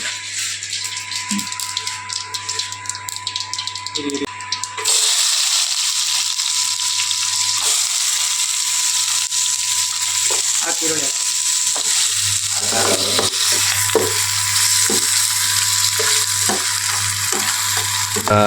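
Chopped onion frying in a pan with mustard seeds and cumin, a loud continuous close sizzle with scraping stirring strokes and occasional rattles throughout.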